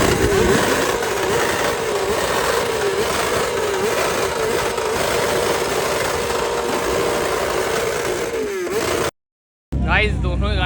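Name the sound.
loud superbike engines revving, ZX10R and BMW S1000RR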